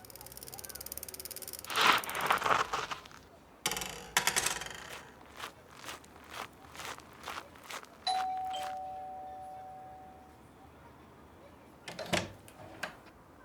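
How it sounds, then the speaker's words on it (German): A doorbell rings with a few bright chimed tones, mixed with knocking-like clicks and brief rustling, in a quiet room. "Also radeln sie schnurstracks zum Igor heim und läuten an der Türe"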